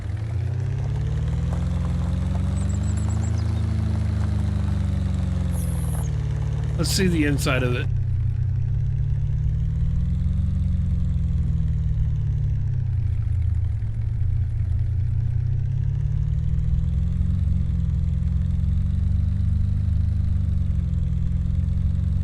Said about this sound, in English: The engine sounds sound like crap.